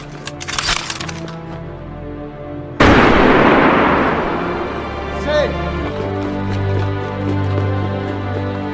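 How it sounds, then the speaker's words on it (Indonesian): A firing squad volley from the film Valkyrie cracks out as one loud, sudden burst that rings and fades over several seconds, following earlier quieter sound and faint speech, with a dramatic music bed underneath. "Setelah itu mereka ditembak mati secara bergiliran."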